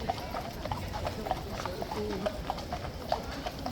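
Police horses in riot kit clip-clopping on pavement, a steady run of hoof strikes from several animals at moderate distance, with a continuous crowd murmur behind them.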